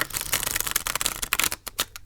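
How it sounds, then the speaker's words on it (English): A deck of Creatures Tarot cards with a smooth, playing-card-like stock is shuffled up close in quick riffling bursts of crisp, papery flutter that slow toward the end. "Let me shuffle them and then we'll take a better look."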